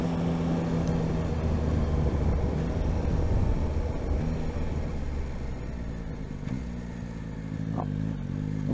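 A Yamaha Tracer 9 GT's CP3 engine runs steadily and loud throughout, a continuous rumbling drone with a slight dip in pitch and level near the end.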